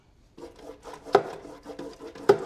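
A small silicone brush spreads golden beeswax inside a wooden swarm trap for bees, producing soft rubbing and scraping strokes with two sharper knocks against the wood, close and fairly quiet.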